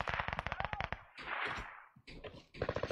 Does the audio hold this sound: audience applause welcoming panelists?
no